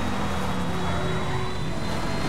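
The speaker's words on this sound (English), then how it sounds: "Oh, I've never seen one of these big things take off." A big plane takes off in GTA 5 with a steady, loud, broad engine roar and a rising whine, and no voices over it.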